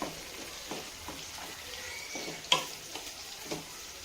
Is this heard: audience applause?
no